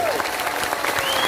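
A crowd at an Islamic religious gathering claps loudly and steadily, with a dense, continuous wash of hands and a voice rising briefly over it.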